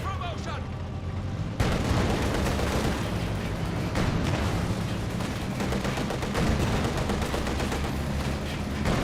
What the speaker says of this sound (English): T-70 firing away, gets some good shots there on the Volks Grenadiers